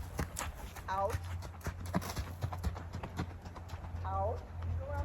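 Tennessee Walking Horse hooves clip-clopping on arena footing as the mare moves off toward a canter, a steady irregular run of close hoof beats under a person's voice and brief whinny-like tones, with a low hum throughout.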